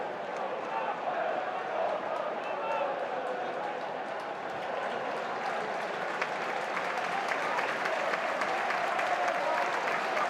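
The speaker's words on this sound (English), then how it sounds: "So round of applause for Zach Sturge, who makes way." Stadium football crowd at Millwall versus Wrexham in the EFL Championship applauding a substituted player, a broad, distant wash of clapping and crowd noise sustained throughout with commentary over it.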